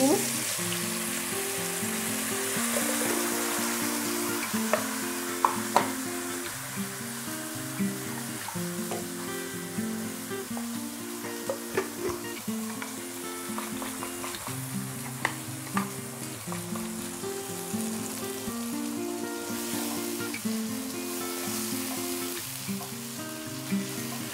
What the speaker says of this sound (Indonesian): selanjutnya kita goreng bumbu